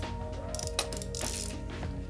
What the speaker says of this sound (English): It's a Ratchet spinning groove machine